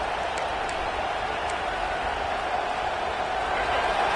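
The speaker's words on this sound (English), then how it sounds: "Listen to this crowd just shaking the girders of this place, trying to help their defense." Stadium crowd roaring at a football game, a dense, continuous wall of cheering and noise from a large audience, steady and loud throughout with a faint whistle or two.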